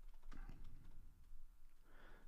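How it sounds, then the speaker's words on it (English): Computer keyboard typing during a live music stream, a quick patter of key clicks in short bursts, fairly close and faint, with no voices over it. "I'm just typing in the words B tuning note"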